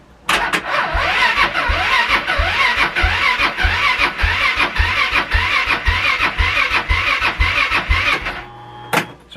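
A Polaris engine cranks over with a rapid, steady chugging rhythm for about eight seconds, loud and close, then stops.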